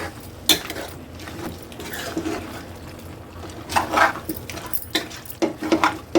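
Goat head curry with onions is stirred in a pan, a utensil scraping and knocking against the metal in separate bursts, close and fairly clear with quieter gaps between strokes.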